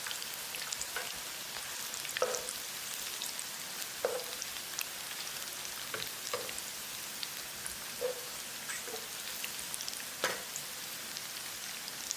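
Chicken pakora frying in hot oil while pieces are turned over, a steady crackling sizzle with sparse sharp pops and spits, close and fairly even throughout, no voices.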